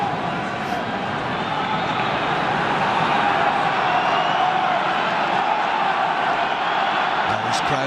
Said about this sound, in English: Irish crowd find their voice.